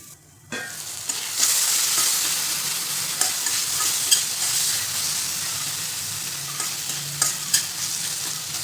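Tomato pieces with a pinch of salt cooking in a covered pan, giving a steady close sizzle and hiss of frying with faint scattered pops and a soft stirring scrape at the start, no talking.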